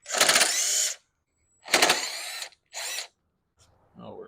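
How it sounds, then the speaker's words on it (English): A power tool whirs in three short bursts while removing 8 mm bolts from a 1984 Honda Aero 125 scooter, followed by faint clatter. "I got to take these little 8 mil bolts off, and this hopefully should come off"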